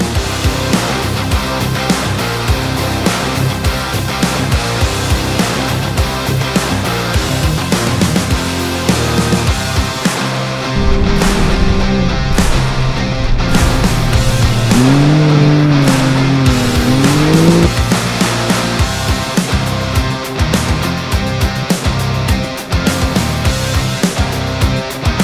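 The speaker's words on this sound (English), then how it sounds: "Here we can see 2 of the side-by-sides swapping places." Side-by-side off-road racing vehicles roar through hanging dust at a Perenjori off-road race, loud continuous engine noise with passing revs and a brief sweeping rise and fall of engine pitch.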